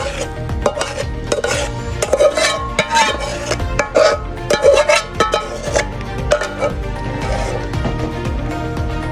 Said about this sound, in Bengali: গুড়টাকে মিক্স করব।